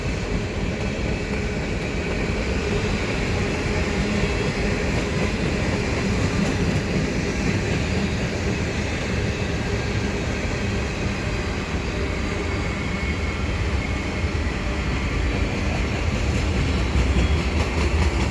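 An eastbound CN general manifest freight train rolls past at Dorval Ramps with a continuous loud rumble and rail clatter of passing cars, steady and close throughout.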